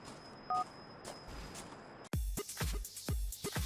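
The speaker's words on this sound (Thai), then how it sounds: "นิโก้ก็โทรบอกเดลิกนะว่าเอเดนตายแล้ว" Phone dialing in the video game GTA IV: a short keypad beep sounds over a quiet background, then a burst of louder, rhythmic electronic phone tones follows.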